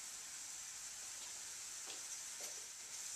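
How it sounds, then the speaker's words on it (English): Onions sizzling steadily in hot oil in a pan, a continuous bright hiss with a few soft stirring scrapes near the end, no voices. "When the oil begins to give off just a hint of steam, you want to add the onions and then give them a quick stir"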